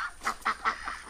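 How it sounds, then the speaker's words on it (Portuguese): Goose or duck on a rural smallholding calling in a few short, nasal honks spaced about a fifth of a second apart, moderately close and alone with no talk. "Isso é ganso? É ganso ou marreco?"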